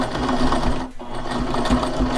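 A sewing machine stitches a zipper pouch with a short stitch length, a continuous close whirring hum with one brief pause midway before it runs on steadily.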